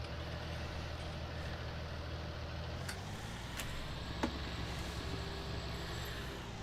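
Deutz-Fahr Agrotron 115 Mk 3 tractor driving in Farming Simulator 19, a steady low engine drone running continuously with a few faint clicks and one brief tick partway through, no talk.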